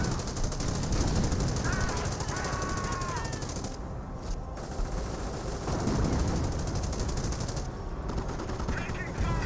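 Rocket artillery barrage in the video game Company of Heroes, a dense rapid rattle of explosions and gunfire filling the clip with brief lulls, heard under game noise.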